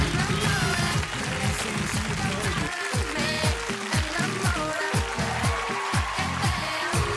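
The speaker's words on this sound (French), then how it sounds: "Allez, on peut les applaudir très très fort." A studio audience at a French comedy entertainment show applauds loudly and steadily for several seconds, with music playing underneath.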